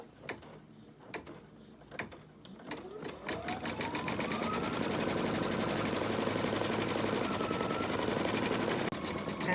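An embroidery sewing machine stitches out a candy cane design on trimmed fabric in the hoop, a few clicks first and then a rising whir that settles into a steady, close, loud mechanical hum with a rhythmic needle chatter.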